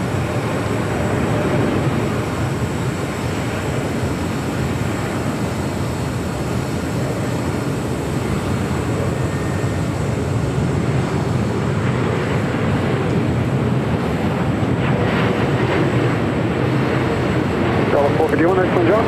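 A Lufthansa airliner arrives at LAX, with a steady, loud jet roar and broadband rumble running unbroken throughout, under intermittent speech.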